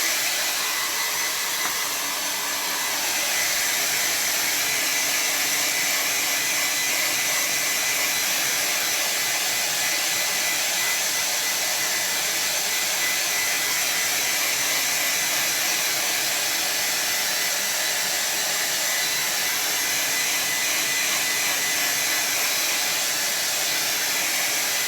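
A hair dryer blows over a watercolor painting, a loud steady whooshing drone held close and unbroken for the whole stretch with no talking.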